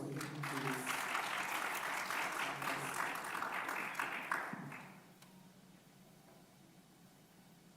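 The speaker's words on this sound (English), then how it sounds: "Applause for him, please." Conference audience at a national dialogue on special needs and inclusive education claps for a speaker, a full round of applause that holds steady for several seconds and then dies away, leaving a quiet hall with faint room noise.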